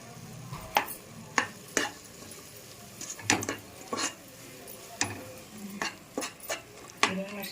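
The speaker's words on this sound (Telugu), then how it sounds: "అన్నీ ఒకసారి కలుపుకోవాలి" A spoon scrapes and clinks against a pot as coriander, cumin, garam masala, chili and biryani masala powders are stirred into chicken pulav, with repeated sharp taps in an uneven rhythm over a faint background hum.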